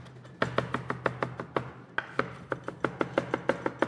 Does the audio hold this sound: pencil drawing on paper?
no